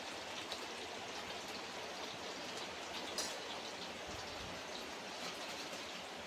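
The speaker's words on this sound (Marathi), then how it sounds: "बाहेर पाऊस लागता एकदम मस्तपैकी" Steady rain falls outdoors in the Konkan countryside, a soft continuous patter of drops on surfaces with a few sharper splashes, evenly spread and unbroken, with no voices.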